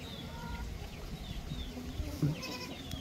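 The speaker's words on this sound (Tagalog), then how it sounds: "Doon pa rin sila, oh, mga ating kambing." Goats bleat on a farm in a few short, faint calls over steady outdoor background noise, with a louder bleat near the end and a person talking faintly nearby.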